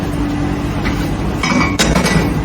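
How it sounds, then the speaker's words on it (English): Someone sets a pan on a lit stove in a home kitchen, making a sharp metallic clink that stands out over faint background clatter and hum. "Now place the pan."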